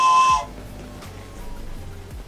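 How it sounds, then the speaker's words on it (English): A toy train whistle blown once in a short, loud, steady tone, then cut off, leaving a quiet room hum behind it. "I have a train whistle too"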